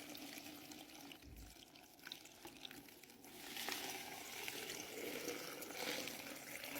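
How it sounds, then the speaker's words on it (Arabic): Pre-boiled water poured from a kettle over salted lemons in a jar, a faint, steady trickling splash that runs continuously and grows slightly fuller. "كنصبوا الماء يكون مغلي من قبل"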